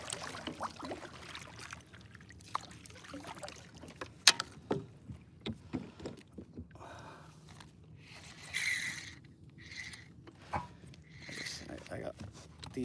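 A pedal kayak is paddled through mangroves, with intermittent splashes and paddle strokes on water, some close and sharp, mixed with soft bumps and rustling, and a few brief quiet stretches between the strokes.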